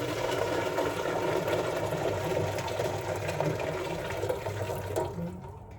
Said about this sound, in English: So I'm gonna put the water in here,